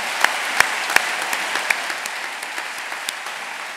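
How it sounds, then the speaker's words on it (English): An audience claps for award winners at a school achievement ceremony, a few sharp close claps standing out early over a steady wash of applause that gradually thins. "a big round of applause to all of our winners"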